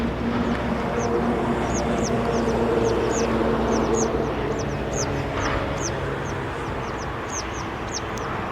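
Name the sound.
comb ducks calling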